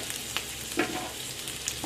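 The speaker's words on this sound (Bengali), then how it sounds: "সেই পেঁয়াজটাকে ভেজে নেব।" A whole chopped large onion frying in hot oil, a constant close sizzle with a few light stirring clinks throughout.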